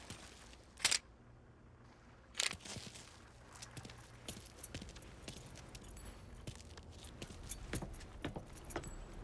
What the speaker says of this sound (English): You got the keys so you can drive.